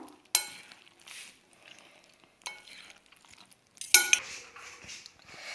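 A spoon scrapes and clinks in a bowl of potato omelette mixture, in a few separate bursts of stirring with quiet pauses between them, close and fairly soft, with no talking.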